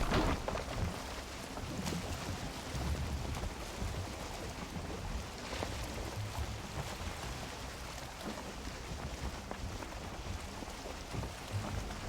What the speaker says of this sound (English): Well, at least the wind is in our direction.